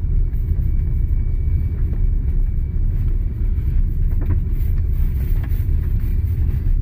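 An MG EHS SUV driving off-road, heard as a steady, loud low rumble of the vehicle in motion with no pauses, close throughout and with nobody talking.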